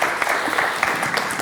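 A television studio audience claps in a brief, dense burst of applause, steady and moderately loud throughout.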